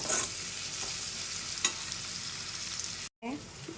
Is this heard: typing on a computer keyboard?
no